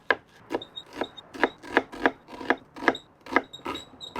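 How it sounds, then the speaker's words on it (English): Red onion chopped with a knife on a wooden cutting board, roughly a dozen crisp evenly spaced chops close up, with no talking. "Next, you'll want some chopped red onion."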